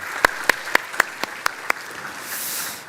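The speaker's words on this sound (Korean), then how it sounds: "자, 다시 한번 인사하고 들어가실 때 박수로 여러분 환영해 주시기 바랍니다." Brief applause in a church Sunday worship service: about seven sharp, evenly spaced claps ring out, then fade into quiet room tone.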